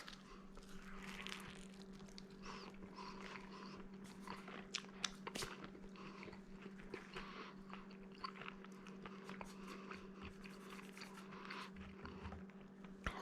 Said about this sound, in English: Let's go ahead and get this slice right here. Take a look at that. Nice crust, crispy. And let's get a bite of this.